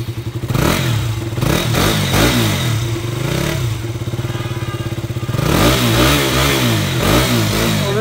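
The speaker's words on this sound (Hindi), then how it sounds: "ओके तो आज ये बजट की एग्जॉस्ट साउंड सुनाइए" A used budget motorcycle offered in a low-cost second-hand bike market revs repeatedly, its loud, close exhaust rising and falling in several throttle blips with no talk over it.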